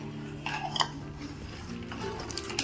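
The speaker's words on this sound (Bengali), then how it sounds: "মিষ্টিটা দিয়ে ভালোভাবে নেড়ে দিচ্ছি।" Payesh, a Bengali rice pudding, is stirred in a pot just after sweetener goes in, with a spoon clinking and scraping against the metal in a few close taps over a soft background.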